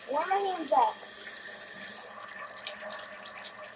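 Hot water runs steadily from a tap into a sink, a continuous splashing rush that follows a brief stretch of voiced sound at the start.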